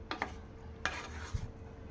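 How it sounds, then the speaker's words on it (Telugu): A spoon stirs a bowl of sweet corn chaat freshly dressed with lemon juice, producing a few quiet clinks and scrapes against the dish, close by and sparse. "రెండు టీ స్పూన్లు నిమ్మరసం వేసుకోవాలి ఇలా మొత్తం ఒకసారి మిక్స్ చేసుకోవాలి"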